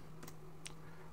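Three faint, quick keystrokes on a computer keyboard while entering text into a Microsoft Excel sheet, evenly spaced against a low steady hum.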